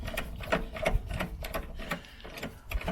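A ratchet tightens the battery bracket bolt on a Peugeot 107, giving quiet, rapid clicking bursts in an uneven rhythm, close and alone.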